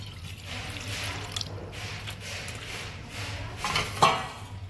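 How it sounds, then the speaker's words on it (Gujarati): Water poured into a bowl of gram flour batter for khandvi, a soft trickling, splashing stream with small drips and a faint clink of a bowl near the end, close and fairly quiet over a low hum. "આપણે આ જ વાટકીથી 2 વાટકી પાણી લેવાનું।"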